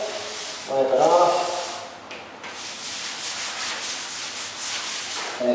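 A cloth wipes adhesive remover off a floor after peel-and-stick tile removal, making a close, rough rubbing swish with a louder stroke near the start and softer scrubbing after.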